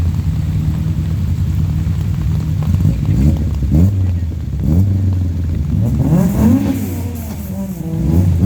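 At the Paide rally closing ceremony, rally cars rev and drive past close by, their engines loud and rising and falling in pitch as each car goes by, over constant low rumble.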